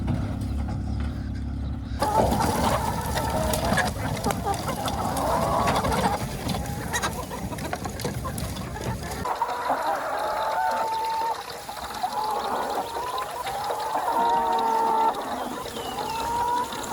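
Farm birds in pens give scattered clucks and calls amid broad outdoor noise, with a vehicle-like rumble through the first part that drops away, leaving the birds clearer toward the end.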